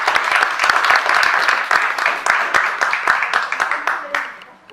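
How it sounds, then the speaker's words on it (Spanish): An audience at a community event in Magdalena Contreras gives dense, loud applause that holds steady and then fades out near the end. "Porque hay que darle un aplauso primero."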